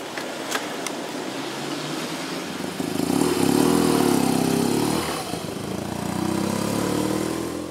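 A motorcycle engine runs steadily, its droning note swelling in the middle as though revving or passing nearer, then settling to a continuous hum.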